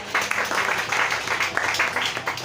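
A church congregation bursts into applause, a dense, sustained wash of many hands clapping together at close range, with faint voices mixed in.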